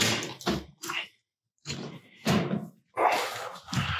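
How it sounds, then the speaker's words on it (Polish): A door bangs shut indoors. Several short thumps and knocks are separated by a brief silence, close by and moderately loud. "Drzwi."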